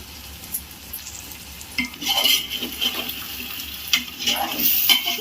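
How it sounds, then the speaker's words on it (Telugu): Mutton frying in oil for Hyderabadi dum biryani is stirred in a pot, giving a steady sizzle with intermittent scraping and stirring bursts, close and moderately loud, with no talk. "మటన్ అంతా ఒకసారి కలుపుకుందామండి"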